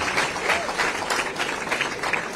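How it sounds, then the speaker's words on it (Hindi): An audience at a college event applauds to welcome Tamil Nadu Governor R. N. Ravi, with soft, steady clapping from a crowd heard at a moderate distance. "एक बार मैं चाहूंगी कि जोरदार तालियों से आपका स्वागत और सम्मान किया जाए।"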